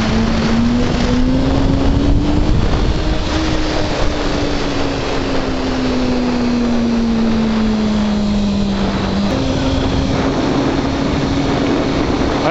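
A motorcycle pulling a second-gear wheelie above 35 mph, its engine a steady loud drone that sags slowly in pitch, then jumps back up near the end as the gear engages again, with continuous wind rush throughout.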